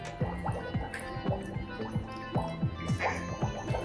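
Water gurgles and drips at close range during a Ganesh idol immersion, with repeated plopping, bubbling pulses in a steady rhythm and faint background noise.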